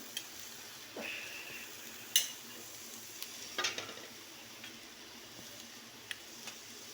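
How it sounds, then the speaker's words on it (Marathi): Kolhapuri chili powder being stirred into a sizzling curry, with a soft steady fry hiss under scattered scrapes and clinks of a spoon against the pan, close and fairly quiet. "आता मी याच्यात कोल्हापुरी आमचं तिखट आहे ते घालते."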